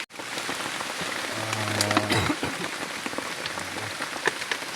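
Rain patters steadily on surfaces outdoors in a forest, a soft continuous hiss with scattered drops, fairly quiet, with a brief low tonal sound partway through.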